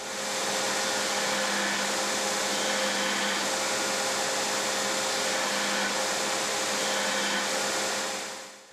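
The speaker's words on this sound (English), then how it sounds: "it's back to the grinder to shape the handle. First, you'll need to grind off the heads of the pins." A grinder grinds off the heads of pins on a knife handle made from scrap, giving a loud, steady whirring hiss that runs unbroken throughout.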